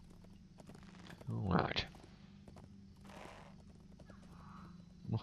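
A horse's hooves clip-clop across the ground in the online game LOTRO at Helm's Deep. The steps are soft and scattered, a voice speaks briefly in between, and a louder thump comes near the end.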